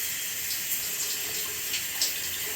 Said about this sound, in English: Let's get the hot water over here.